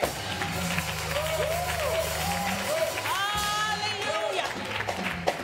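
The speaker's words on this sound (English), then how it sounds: "Clap your hands and give God some praise." A church congregation claps their hands in praise, a continuous crowd clapping with scattered whoops and cheers, while voices and music carry on over it throughout.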